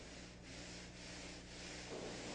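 Steady, soft abrasive rubbing, a sanding block scraping back and forth over foam in a continuous gritty hiss.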